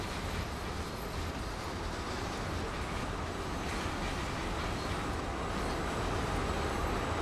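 A train in the Train Sim World video game rolls steadily along the track, a constant loud rumbling wash of wheel and engine noise with no distinct breaks and no talking.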